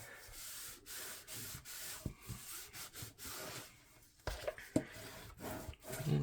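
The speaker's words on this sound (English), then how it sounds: "And give that a good burnish." Paper being burnished onto a scrapbook album page, a quiet, steady close rubbing that sweeps back and forth in strokes for several seconds.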